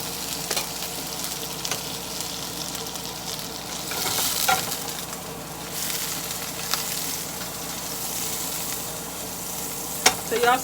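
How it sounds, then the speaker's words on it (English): Butter sizzling and frying in a pan on the stove for a ham sauce, a steady moderate crackle with a few brief clinks and stirring sounds, no voices. "So y'all see us adding the butter."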